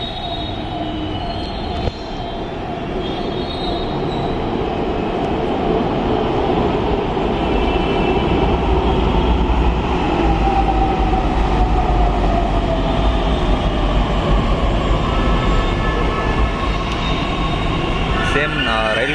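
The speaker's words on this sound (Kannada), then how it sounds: "ಆ ಕಡೆಯಿಂದ ಒಂದು ಮೆಟ್ರೋ ಬರ್ತಾ ಇದೆ." A metro train pulls into an elevated station in Pune with overhead electric power, a rising rumble of wheels and a drawn-out squeal growing louder over about nineteen seconds.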